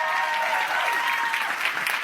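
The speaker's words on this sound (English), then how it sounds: "please join me in a warm round of applause to welcome our guests, Karine Jean-Pierre, Brittany Shepard, and A" An audience at a forum applauds warmly to welcome guests, a dense, steady round of clapping that stays loud for two seconds.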